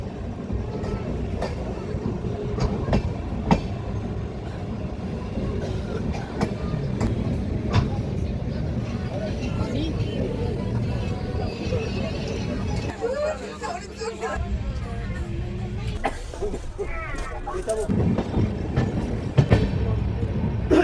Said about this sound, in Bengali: দুর্গাপুর স্টেশন থেকে ট্রেন ছেড়ে দিয়েছে।